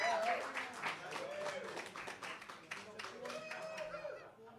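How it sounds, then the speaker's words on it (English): Audience applause at a live talk-radio show after two guests are thanked, a dense patter of claps with a few chuckles, moderately loud and fading slightly toward the end. "Let's give a big round of applause for Paul Santos and Joanne Raposa for doing this."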